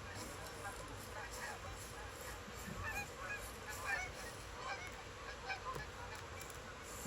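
Canada geese and suburban geese honk in scattered overlapping calls at a pond in theHunter: Call of the Wild, steady and moderately distant over a low ambient bed, with no voices.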